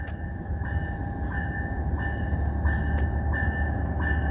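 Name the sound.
CPKC passenger train with four coaches passing at night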